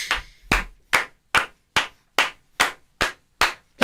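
A crowd claps in bursts: about nine sharp, evenly spaced slaps over a few seconds, close and loud, with no voices.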